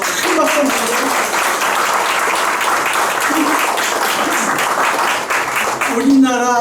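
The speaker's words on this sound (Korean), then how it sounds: "큰 박수 주세요" A large audience applauds loudly and steadily throughout a Korean lecture on industry, trade and democracy, the clapping sustained as a dense wash from start to finish.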